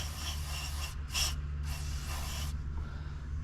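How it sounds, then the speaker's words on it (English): Cleaner sprayed from a can around a wire, three short hissing bursts over a steady low mechanical hum, close and fairly quiet. "what I'm doing is I'm spraying all around that little area where that wire is"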